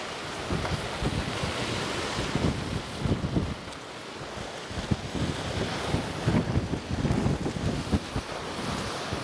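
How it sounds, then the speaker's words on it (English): Ocean waves wash onto the shore at Somuuido Island in repeated surges, loud and close, with heavy wind buffeting the microphone throughout. "the waves are loud and clear"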